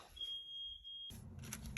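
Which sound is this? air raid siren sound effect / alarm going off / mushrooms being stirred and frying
alarm going off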